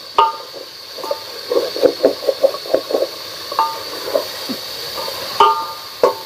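Onions sauté in a pan of gravy, a soft sizzle broken by rhythmic wet scraping and stirring strokes from a spoon, close and moderately loud, with no voices.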